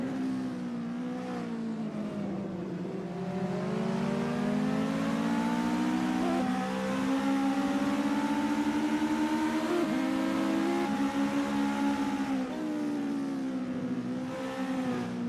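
A US Legend Car engine drones steadily through a lap of VIR Grand West in a sim racing game, its harmonic pitch climbing and dipping with gear changes and throttle, loud and close without any voices.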